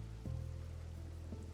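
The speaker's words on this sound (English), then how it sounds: "And the rain continues." Steady light rain falls, a faint, even patter with soft low rumble underneath, no voices, continuous for a brief moment.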